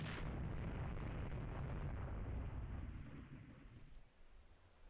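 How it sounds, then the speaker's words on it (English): Naval gunfire in the warship strategy game Rule the Waves 3, a long, loud, dense rumble of shell explosions and booming cannon that holds steady for several seconds, then fades and thins toward the end. "if we can keep up the bombardment on them."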